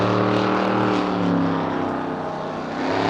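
A blown unlimited displacement racing boat engine roars steadily at close range on the water, a deep droning rumble with slight surges in pitch.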